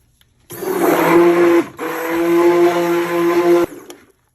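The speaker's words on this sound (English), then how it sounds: "We're going to blend up using our stick blender." A stick blender whirs steadily while mixing base oils for cold process soap. It runs in two loud, sustained bursts of about a second and two seconds, with a brief pause between them, and no voices are heard.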